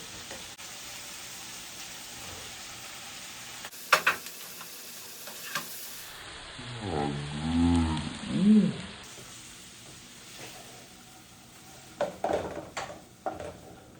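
Asparagus cooks in avocado oil in a pan with a steady close sizzle, broken by clattering stirs and scrapes of the utensil against the pan, and a louder bubbling burst midway.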